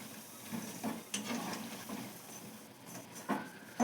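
Idli batter bondas made with red rice, urad dal, chana dal, ginger and garlic frying in hot oil, a steady close sizzle with soft bubbling and a few louder crackles and stirring clicks, no voices.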